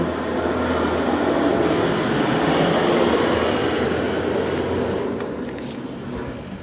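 A continuous dense roar of heavy highway traffic rumbles past, loud and steady, easing slightly toward the end.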